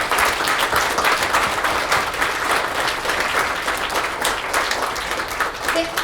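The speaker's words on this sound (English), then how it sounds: "let's give them a round of applause for this great panel" Audience applauding a panel discussion on the future of AI with Sophia the Robot, steady dense clapping from a large crowd that stays loud and continuous throughout with no talk over it.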